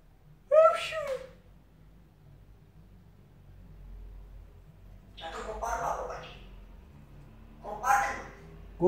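A child sneezes indoors, a short sharp burst near the start, followed by a few quieter breathy sounds and low background rumble, with no clear talk over it.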